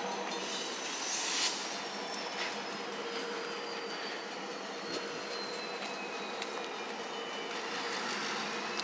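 Canadian National freight locomotive 5418 backs slowly past in Effingham, Illinois, wheels clicking and steel faintly squealing, a steady rumble with no talking.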